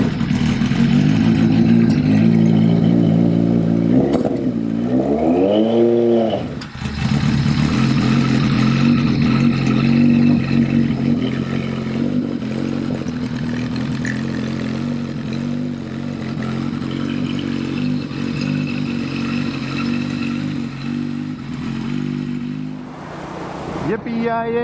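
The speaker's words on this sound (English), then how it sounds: "I think I'm going to hop back on it and go for a motorcycle ride" A 1976 Harley-Davidson Sportster 1000 Ironhead motorcycle on the road, its engine droning steadily with a rising rev and gear change early on, then a sustained loud riding rumble with a rider's voice over it.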